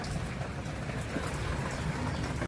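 Steady, dense rain pouring down continuously, a loud broadband hiss of drops with no pauses or voices.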